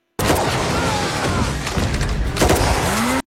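Gunfire and heavy impacts from the action film The Mother (2023) at a shooting practice range, loud booming shots and thuds in a dense burst, with a sharp blast near the end.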